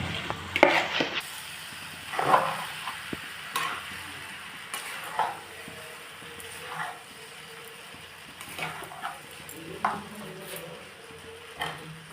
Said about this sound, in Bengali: এবার আমি এতে যে জলেতে সোক করা ছিল সেই ম্যাগিটা দিয়ে দিচ্ছি।